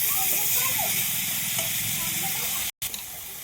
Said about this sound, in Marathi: मस्त तेलातून परतून घेऊ चिवईची भाजी.